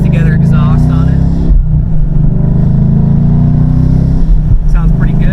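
A 2015 Ford Mustang GT V8 with a homemade custom exhaust idles and burbles steadily throughout, deep and rumbling, loud and close, with no voices over it.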